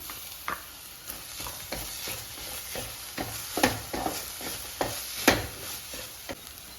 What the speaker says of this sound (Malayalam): ഇതിൻ്റെ പച്ചച്ചൊവയൊന്ന് പോകുന്നവരെ നമുക്കൊന്ന് ഇളക്കി കൊടുക്കാം.